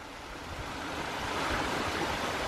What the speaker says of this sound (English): check this waterfall out